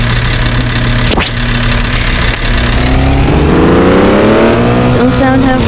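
An old rusty diesel Dodge truck engine runs close by at a steady idle, then revs and climbs in pitch through the latter half, with a few sharp clanks over the continuous rumble.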